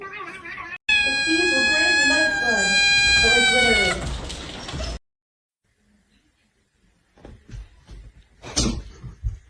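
A house cat gives a long, loud, drawn-out meow close by, followed by a pause and then quieter shuffling and brief voices in a home.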